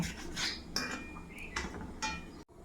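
A knife slices tomatoes into quarters, several faint separate cutting strokes with soft clinks against a board or plate, spaced about half a second apart, with no talk.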